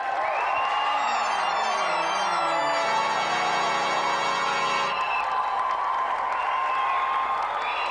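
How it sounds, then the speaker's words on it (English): Studio audience applause and cheering on a video game TV show, a broad crowd roar heard under loud electronic music and sweeping sound effects throughout. "Round of applause for Doug, everyone"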